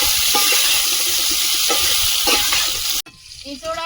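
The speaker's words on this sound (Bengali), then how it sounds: "আলুটা ভেজে নিচ্ছি" Potatoes frying in mustard oil in a pan, a steady loud sizzle with faint scraping stirs, cutting off abruptly near the end to quieter clatter.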